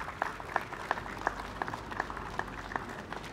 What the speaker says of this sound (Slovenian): En aplavz.